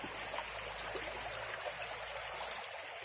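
A forest stream flows steadily, a continuous broadband rush of running water with no voices, holding even and fairly close throughout.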